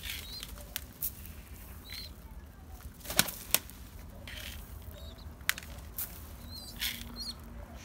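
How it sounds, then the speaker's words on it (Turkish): Pet birds in a cage, waiting to be fed, make scattered soft flutters and occasional chirps against quiet background noise, with a few sharper brief rustles. "Vallahi kuşlar da acıkmış."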